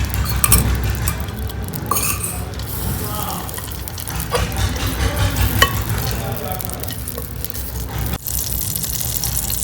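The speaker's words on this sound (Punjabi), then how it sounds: "ਇੱਧਰ ਆਪਣਾ ਘਿਓ ਗਰਮ ਹੋ ਗਿਆ ਜੀ" Two spoons of ghee heating in a pan for carrot malai barfi, giving a steady close sizzle with scattered scraping clicks and small clatters throughout.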